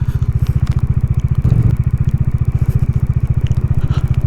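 A motorcycle rides over a rough, unpaved road under construction on the way from Purne to Padum in Zanskar, Ladakh, its engine a steady close pulsing drone with rattles and crackle throughout.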